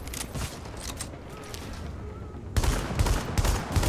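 Shotgun gunfire in The Division crackles in a dense, noisy burst, then grows louder and heavier toward the end.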